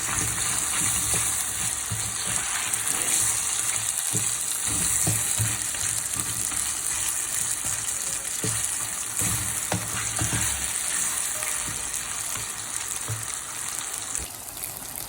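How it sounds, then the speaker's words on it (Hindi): Potato slices fry in a spiced masala in a pan, giving a steady, close, loud sizzle with repeated scraping and stirring strokes throughout and no talking. "आलू को ज़रा 5 मिनट अच्छा से भूनूंगी ताकि थोड़ी सी इसमें कुक हो जाए।"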